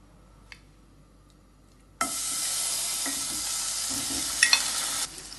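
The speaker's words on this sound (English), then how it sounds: "We just need to fry the paneer for a couple of minutes." Paneer dropped into hot oil in a pan bursts into a steady, loud sizzle after a quiet start, with a few sharp pops near the end before the hiss cuts off.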